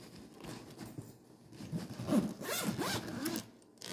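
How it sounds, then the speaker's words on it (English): A zipper is pulled shut along the lower file compartment of a fireproof document box with lock, a close, scratchy run of zipping that rises in the middle and carries on for several seconds without talk. "zip that back up."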